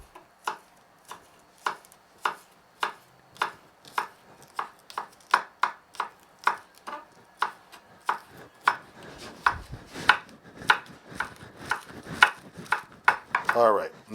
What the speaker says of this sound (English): You want to take your scallion and you want to cut it into little pieces